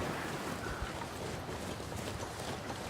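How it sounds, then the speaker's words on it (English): Steady wind roars across an open winter landscape in the survival video game The Long Dark, a dense, unbroken broadband gust with no pauses, filling the whole stretch alone without voices. "Still windy."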